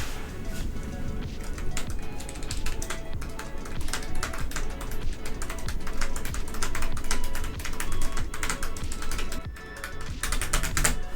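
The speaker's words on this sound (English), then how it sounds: "Let's type something." Rapid, continuous typing on a MacBook butterfly keyboard, with dense shallow key clicks close up and no talking.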